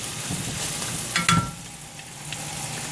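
Garlic hits a hot pan with a brief louder sizzle burst, then a steady frying crackle continues beneath stirring noises, close and moderately loud.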